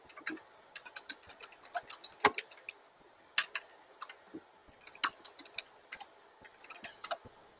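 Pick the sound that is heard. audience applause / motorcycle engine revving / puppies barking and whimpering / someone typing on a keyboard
someone typing on a keyboard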